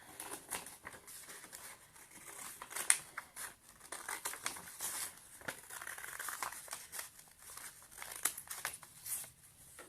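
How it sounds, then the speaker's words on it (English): Close, dry crinkling and snipping of paper, with irregular rapid cuts and rustles continuing steadily throughout at a quiet level. "I'm gonna use my scissors here"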